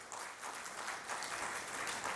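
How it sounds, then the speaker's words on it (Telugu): An audience at a gathering applauding farmers, a continuous, even patter of many hands clapping at low volume, with no voices standing out. "ఒక్కసారి గట్టిగా చప్పట్లు కొట్టండి వారికి"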